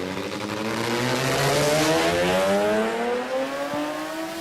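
A 1974 Mazda 1300 race car with a 13B rotary engine revs hard, its pitch climbing steadily through the gears in a loud, continuous, buzzing drone close by at a race-day event.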